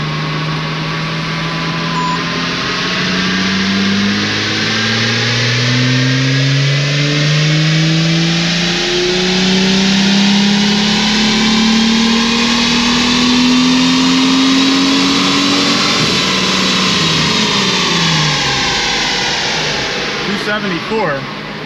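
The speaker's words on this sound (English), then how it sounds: "Rev it a little higher." A Procharged 2023 Jeep Wrangler engine revs through a long pull, its pitch climbing steadily with supercharger whine over it, loud and close from inside the cabin before easing off near the end.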